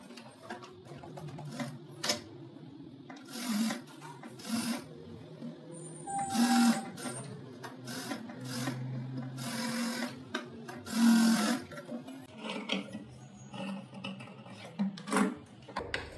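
An overlock machine stitches blouse fabric to its lining, a steady mechanical whir with rapid rhythmic clatter that comes in bursts and pauses, close and fairly loud throughout.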